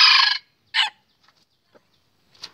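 A red-eared jungle fowl rooster gives a short, loud crow up close, followed by a briefer second call and a faint far cluck, with quiet gaps between.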